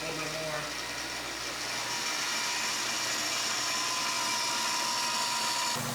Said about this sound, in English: Raise the RPM just a little bit